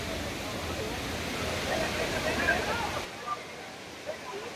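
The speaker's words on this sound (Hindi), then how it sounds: "एंड उसके नीचे एक वाटरफॉल है" A waterfall below a double-decker living root bridge gives a continuous rushing roar that drops noticeably in level partway through.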